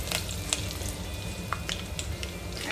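Mustard seeds, cumin, asafoetida and curry leaves sizzle steadily in hot oil in a pan for a Marathi bhogi vegetable dish, a close, continuous frying hiss broken by a few sharp pops and crackles.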